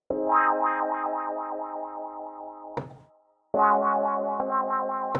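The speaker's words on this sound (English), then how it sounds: "it's a decent guitar patch, but you can control the wah-wah with your mod wheel" A synth guitar tone sustains with a rhythmic wah-wah sweep, then cuts off briefly before a second sustained, wobbling chord returns.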